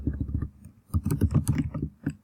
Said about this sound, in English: my typing skills are just all kinds of crazy right now